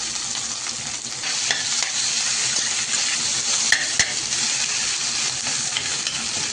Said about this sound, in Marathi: बटाटा आपला चांगला फ्राय झाला